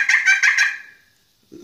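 A wild turkey gobbler on the roost lets out one loud, close, rattling gobble lasting under a second, followed by silence and a brief low rustle at the end.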